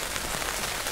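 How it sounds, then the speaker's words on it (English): Light rain patters steadily on a tent. It makes a dense, even hiss of small drops, close and continuous, and no one talks. "A little pitter-patter of rain"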